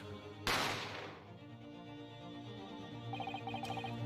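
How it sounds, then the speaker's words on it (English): A single sharp, loud gunshot cracks out early in an Ace Attorney courtroom mystery game scene, standing apart over steady background music that carries on afterward with small tinkling accents. "You heard the gunshot, you mean?"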